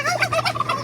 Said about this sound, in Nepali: यसलाई के भन्छ? टर्की। टर्की।